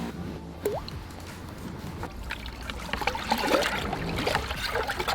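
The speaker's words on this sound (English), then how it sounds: "First we add the water with the PVA in it." Water containing PVA is poured into a sand, cement and lime mortar mix for chimney repair, giving close drips, trickles and wet squishing sounds that come and go irregularly over faint outdoor background.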